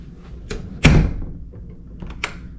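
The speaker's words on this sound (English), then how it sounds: "Locks and unlocks perfectly fine." A newly replaced door knob is worked through locking and unlocking: a light click, then a sharp metallic latch snap followed by a couple of smaller clicks, close by with no talking.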